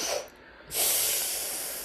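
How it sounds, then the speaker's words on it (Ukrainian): Sharp nasal breathing in a kundalini yoga stroke breathing exercise: a short sniff through the nose, then a brief pause, then a long strong hissing breath that tapers off slowly, close and alone. "Four stroke inhale"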